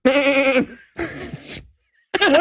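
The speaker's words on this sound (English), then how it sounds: "a very clear, very loud goat in the background goes" A goat bleats loudly and clearly in the background of a low-budget movie scene, giving three wavering, nasal cries in quick succession, the second two shorter and separated by a brief silence.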